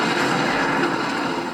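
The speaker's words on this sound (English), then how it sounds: "Whoa, that was some explosion." A big explosion in Grand Theft Auto V on PlayStation 3, heard as a dense, sustained roar of broadband noise filling the whole moment with no distinct onset, loud and with no voices.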